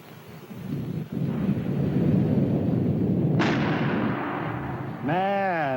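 A rifle fired with a dangerously hot handloaded cartridge lets out a heavy, rumbling boom that rolls on as a long, thunder-like roar, ending with a brief whine.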